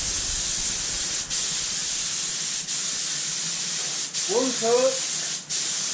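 Steady hiss of a spray can or spray gun laying paint onto a Socome MIG welder, continuous with brief pauses between passes, with a short burst of speech near the end.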